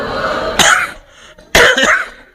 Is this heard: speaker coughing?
yes